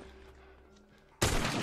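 A loud, sudden gunshot bursts from a firefight in The Last of Us after a quiet hum, hitting hard and staying dense to the end.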